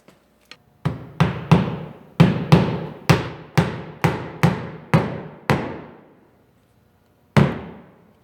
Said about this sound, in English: I'm nailing the utility trim